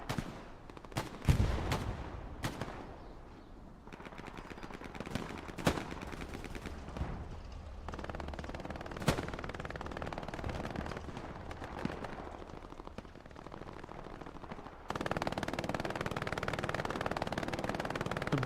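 A machine gun hip-fired in Hell Let Loose rattles out in sharp bursts among scattered rifle shots and distant gunfire, loud and near, ending in a sustained wash of battle noise.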